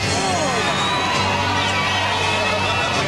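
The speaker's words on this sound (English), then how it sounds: "it's a raucous crowd here this evening" A raucous evening crowd gathered to watch the Phillies clinch the 1993 pennant, a dense, continuous roar of cheering and babble filling the whole stretch, loud and unbroken, with whoops rising above the mass of voices.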